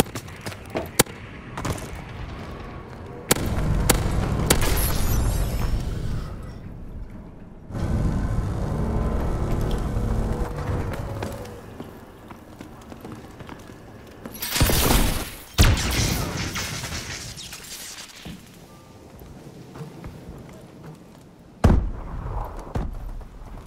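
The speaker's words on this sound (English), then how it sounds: "Enemy bombing run overhead." Enemy bombing run in the shooter Call of Duty: Advanced Warfare, a series of heavy booming explosions and sharp blasts in uneven bursts, loud and close, with quieter rumbling gaps between impacts.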